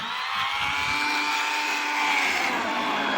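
Hand blender whirring steadily as it grinds boiled ingredients into a fine paste, a loud close motor drone with a slight rise in pitch partway through, no talking.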